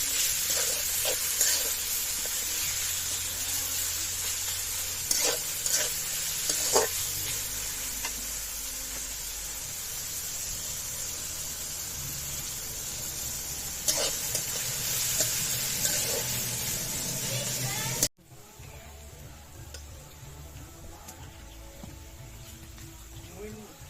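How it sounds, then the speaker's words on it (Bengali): Chopped onions fry in a pan with a constant broadband sizzle and occasional scraping stir strokes, then the sound drops abruptly to a quieter, thinner sizzle near the end. "পেঁয়াজটা এবার ভালো করে ভেজে নেবে"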